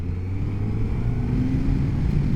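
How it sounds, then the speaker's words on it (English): A Suzuki GSX S1000GX motorcycle engine pulls under acceleration, a steady, close, mid-low drone whose tone climbs slightly, mixed with road and wind rumble and no talk. "There is definitely power in this engine"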